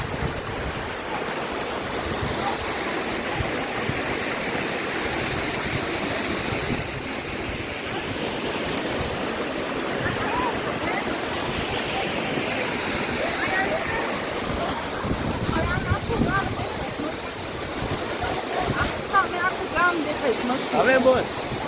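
Patanvav waterfall on Osam hill, with a heavy flow of water. It makes a steady, loud, close roar and rush that never stops, while voices talk over it.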